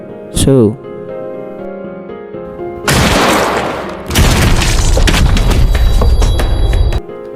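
Loud pistol and shotgun fire in a film erupts in two heavy bursts after a brief vocal cry, with booming blasts and clattering noise filling the space.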